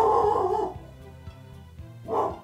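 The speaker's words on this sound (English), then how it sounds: "Bloody dog." A dog in the life-simulation game SimAnimals gives two short yipping barks, one at the start and one near the end, fairly close and clear over a low droning music bed.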